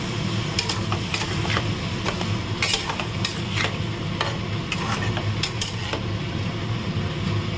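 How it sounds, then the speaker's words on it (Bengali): Soybean chunks are stirred and sautéed in a pan with a splash of hot water. A steady sizzle runs underneath while a spatula scrapes and taps against the pan in an irregular, close-up rhythm. "এবারে কষানোর সময় একটু সামান্য গরম জল দিচ্ছি, দিয়ে আমি এটাকে ভালো করে কষাবো।"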